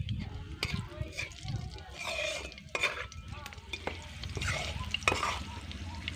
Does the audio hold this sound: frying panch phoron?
yes